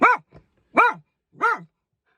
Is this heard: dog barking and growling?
yes